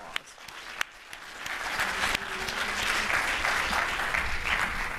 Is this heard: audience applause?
yes